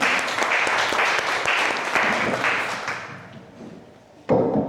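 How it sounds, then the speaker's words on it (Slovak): An audience at a seminar gives a big round of applause, dense clapping that gradually thins and fades, followed by a short renewed burst at the end. "Veľký potlesk"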